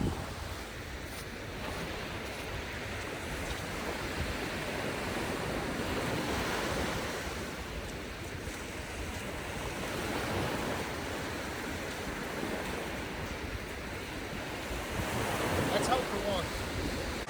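Ocean surf and wind on an Alaskan coast with snowy mountains nearby, a continuous washing roar of waves with gusty wind buffeting the microphone, swelling and easing over time at a moderate level with no voices.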